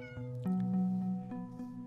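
A cat meows in a children's story, one drawn-out, tonal meow preceded by a short chirp and followed by a softer tail, clear and close against a quiet background.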